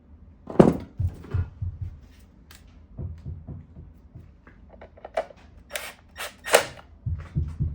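Bolts are snugged down on a 1977 Johnson 9.9 outboard with a hand tool, making short ratcheting clicks and metallic ticks in irregular bursts with quiet gaps, close by.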